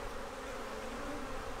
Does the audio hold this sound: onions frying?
no